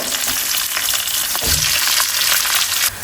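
Green chillies, curry leaves and onion dropped into hot oil for a fish intestine curry, a loud, dense crackling sizzle right up close, with a brief low thump partway through.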